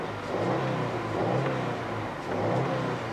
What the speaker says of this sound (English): the engine definitely has that Boxer growl